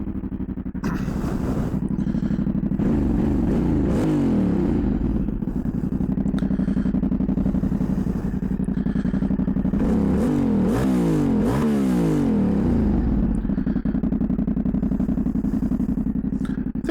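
A Yamaha Ténéré 700 with its CP2 parallel-twin engine starts up and idles with a deep, steady throb, close and loud, with two bursts of revving that rise and fall around the middle and later on.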